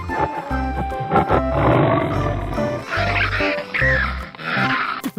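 A tiger in a 3D animal video game lets out a loud, close, growling roar in several rough pulses, set over a bouncy game music loop with low rhythmic beats.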